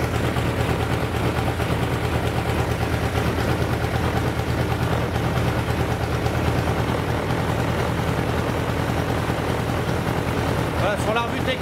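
Suzuki GSX-F 1100 motorcycle engine idling at about 1000 rpm, a steady close low rumble that stays even throughout, with someone talking over it.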